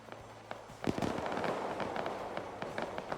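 Gunfire in a video game: a rapid crackle of sharp, distant-sounding shots, loose and irregular, some louder cracks standing out against a steady background rumble.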